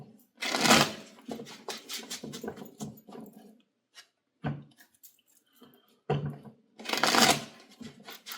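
Tarot deck being shuffled by hand, bursts of riffling and soft card slaps in uneven clusters with brief pauses between, close and fairly quiet.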